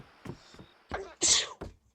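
A single sharp sneeze bursts out amid scattered short vocal sounds and shuffling while a horror game is played, loud and close, followed by brief quiet.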